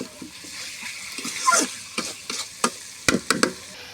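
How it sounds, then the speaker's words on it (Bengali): Potatoes stirred into a village-style chicken curry, wet scraping and stirring over a gentle sizzle, ending in a few sharp knocks of the spoon against the pot. "আলুটাও দিয়ে দিলাম মাংসের মধ্যে"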